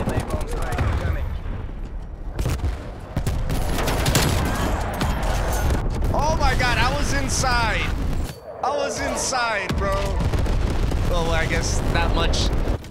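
Bombs go off in a shooter video game amid dense bursts of gunfire, loud and continuous, with a short lull before the blasts resume; voices call out over the din.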